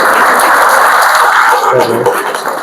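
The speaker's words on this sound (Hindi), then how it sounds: "इसके लिए जोरदार तालियां" Students clap during a motivational school session, a loud close crackling burst of applause that thins and fades toward the end.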